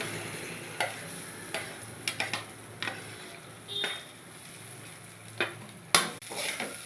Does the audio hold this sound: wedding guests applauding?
no